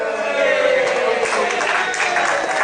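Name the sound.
audience applause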